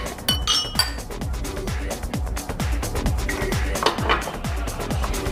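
Champagne glasses clink together in a toast, a series of bright, close clinks over a steady background of faint voices and room sound.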